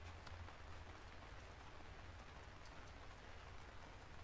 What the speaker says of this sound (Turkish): Dışarıda yağmur yağıyor gibi görünüyor.